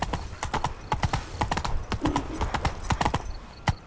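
Roach, a horse in The Witcher 3 video game, gallops with a steady run of sharp, close hoofbeats and a faint whinny-like tone partway through.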